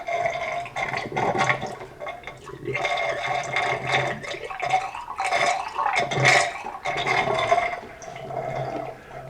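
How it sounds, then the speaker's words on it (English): Water gurgles and splashes in uneven bursts, draining and sputtering through a freeze dryer's plumbing during cleaning, with brief lulls between surges. "I want to make sure I get a good quantity of clear water through all of the components"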